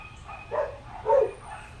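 A small dog yaps across the street, two or three muffled, distant barks standing out over a quiet room's low background.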